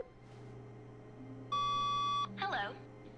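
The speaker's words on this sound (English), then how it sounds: "Wait, that phone's going." In The Stanley Parable video game, an office phone gives a single steady electronic ring tone, clear over a low room hum, and a voice briefly speaks just after it.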